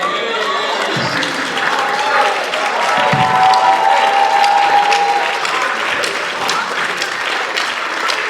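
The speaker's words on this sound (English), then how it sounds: "And then we clap" An audience at a theatre meet-the-audience event for Macbeth claps steadily and fairly loudly, a dense wash of many hands with some murmuring voices underneath.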